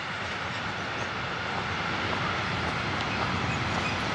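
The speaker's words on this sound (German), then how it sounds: "Dagegen ist der Zug, der hinterherkommt, total leise." A train rolls past quietly on the rails behind walkers on a countryside hiking route, a steady broad rumble with faint clatter at moderate level and no talk.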